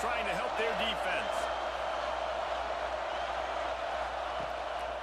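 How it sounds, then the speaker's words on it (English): A stadium crowd in the video game EA College Football 26 roars in a dense, sustained wash of cheering during a defensive stand, loud and continuous throughout, with a few faint sharp calls poking through. "Listen to this crowd just shaking the girders of this place, trying to help their defense."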